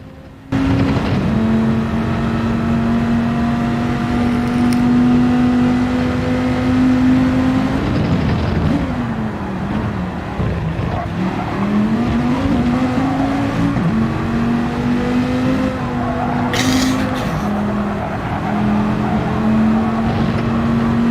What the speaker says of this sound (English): Just listen to the sound of this engine.